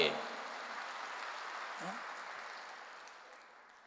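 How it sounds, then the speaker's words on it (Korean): A church congregation claps their hands together in a broad wash of applause that starts loud and gradually fades away. "박수를 칠려면 세게 치고."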